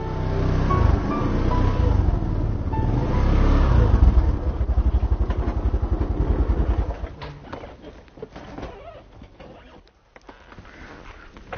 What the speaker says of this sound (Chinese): 那平时我们都是骑着摩托车过来。